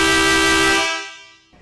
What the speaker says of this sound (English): The 2010 Pathfinder also features the beautiful one-piece windshield and every wife's nightmare, the air horn.